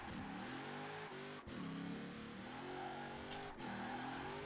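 Hudson Hornet in Forza Horizon 4, a mid-pitched engine revving and accelerating continuously with brief dips between gear changes, steady and fairly loud with no talk.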